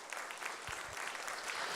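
A church congregation applauds during a Portuguese-language sermon, a steady wash of many hands clapping at moderate distance, fairly faint, with a few low thumps underneath.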